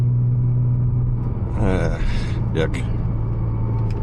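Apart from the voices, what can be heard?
700hp Porsche Cayman 987 Turbo driving at night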